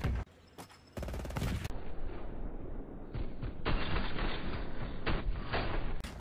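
Gunfire in a first-person shooter video game: a dense run of sharp shots and bursts fills most of the stretch, loud and up close, with no talk over it.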